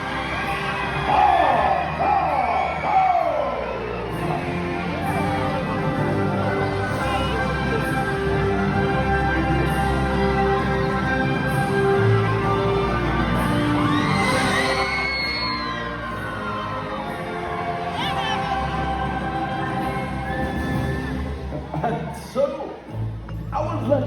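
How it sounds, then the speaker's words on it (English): Audience at a Medieval Times tournament show sending up a broad, sustained crowd roar with whoops and shouts, loud and continuous in a large arena, with a voice calling out over it. "raise a fine almighty cheer for all your knights"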